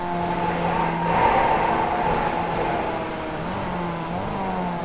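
Race cars lapping Summit Point circuit in an over-55 and over-65 class race, a steady engine drone with a swell as a car passes and fades into the distance.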